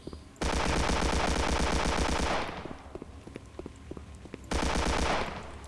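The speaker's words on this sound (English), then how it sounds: "And the enemies blow up when you shoot them too" Rapid automatic gunfire in a Unity 3D first-person shooter game, two loud sustained bursts separated by a quieter stretch of scattered single shots and small blasts as enemies blow up.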